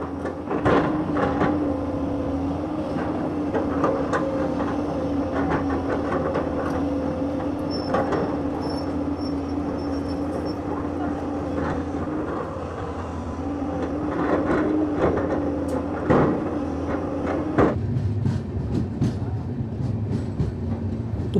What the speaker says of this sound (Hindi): मोलीसर में थोड़ी देर रुकने के बाद अब हमारी ट्रेन यहाँ से निकल चुकी है।